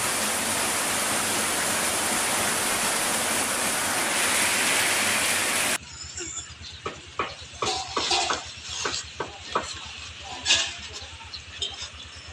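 Rain falling outdoors, first as a loud steady broadband rush, then easing into scattered drips and patters with a low engine-like hum beneath.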